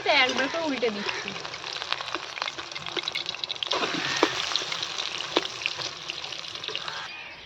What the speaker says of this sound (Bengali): এক পিঠটা করে ভাজা হয়ে গেছে, তাই একবার করে উল্টে দিচ্ছি।